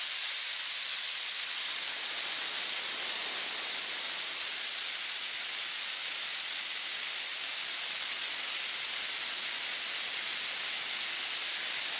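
Compressed air bleeds off through a 25-foot Flexzilla hose in a loud, steady hiss that holds without a break, alone, from start to finish.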